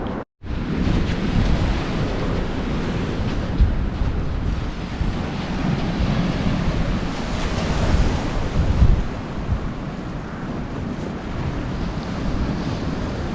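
Waves roll onto Rosemarkie Beach on the Black Isle on a bitterly cold day near freezing, a loud continuous wash of surf mixed with heavy wind rumble on the microphone.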